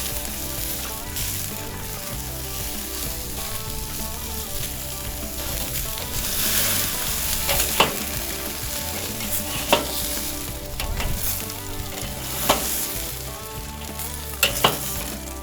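80/20 beef burger patties sizzle steadily on a charcoal grill, a loud continuous frying hiss with occasional sharp pops and crackles, no voices.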